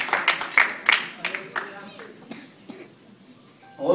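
A few sharp hand claps ring out over a church congregation's talk, spaced irregularly in the first couple of seconds and fading later.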